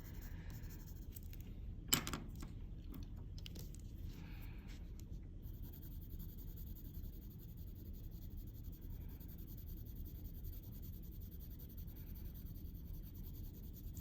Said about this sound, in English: I am blending with the color pencil as I go